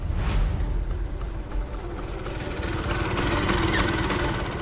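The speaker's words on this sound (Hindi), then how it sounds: "वो देखो स्कूटर की आवाज" A scooter engine drones steadily as it arrives, a continuous, fairly loud motor hum that builds slightly toward the end, with no voices over it.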